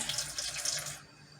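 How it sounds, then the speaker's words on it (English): A kitchen tap runs water into a sink while pancake batter is being made from scratch, a steady close hiss and splash that stops abruptly about two-thirds of the way through. "Then, I'll turn the water on"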